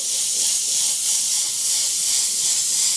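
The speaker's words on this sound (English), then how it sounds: "I'm going to spray a coat of graphite grey just as a base colour while that stencil's on" Airbrush spraying a base coat of graphite grey paint through a stencil on a skull design, a steady continuous high hiss of air and paint mist held evenly and close throughout.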